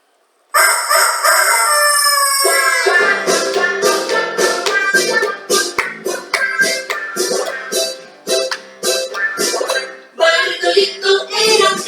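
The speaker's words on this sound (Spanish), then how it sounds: "Bartolito era un gallo que vivía muy feliz. Cuando el sol aparecía, Bartolito cantaba así" A rooster crows in a drawn-out cock-a-doodle-doo, loud and close, followed by a run of rapid, clipped clucking bursts and a final crow, heard alone without talk.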